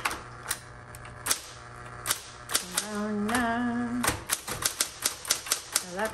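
A repainted 1970s Electra 210 electric typewriter is typed on up close: sharp, irregular keystrikes and clacks ring over the steady hum of its motor, with bursts of quicker strokes toward the end.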